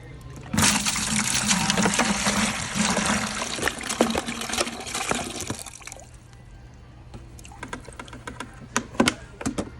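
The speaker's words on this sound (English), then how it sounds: "we're just going to go ahead and mix our concentrate here with our distilled water" Coolant concentrate is poured and mixed with distilled water during a Chevy water pump replacement, giving a close, rushing pour for several seconds, then scattered clicks and knocks of handling the containers.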